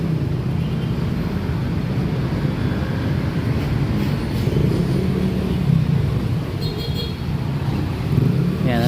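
Steady road traffic rumbles on the EDSA northbound lanes during rehabilitation roadwork, a loud continuous wash of engines and tyres, with occasional vehicles passing close by.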